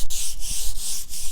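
Sandpaper scrubbing by hand across a coffee table, a steady rasping in long back-and-forth strokes with brief pauses between passes, close and loud with no talk.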